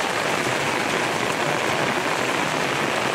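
Heavy monsoon rain pours down without a break, a dense, even hiss of drops striking surfaces up close, with no voices over it.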